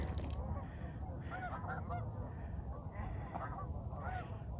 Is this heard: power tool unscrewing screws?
no